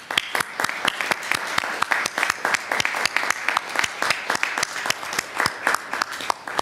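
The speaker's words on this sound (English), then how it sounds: "give a round of applause to all those people that supported you" A large graduation audience at the 2022 Master of Science in Anesthesia commencement applauds, with dense, steady clapping that holds at an even level throughout.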